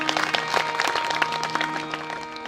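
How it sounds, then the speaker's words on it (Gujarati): Audience at a Gujarati dayro folk music program for a Khodiyar Mata temple consecration in Shapar, clapping steadily in a dense, moderately loud round of applause, with faint background tones beneath. "એને એકવાર તાળીથી વધાવો."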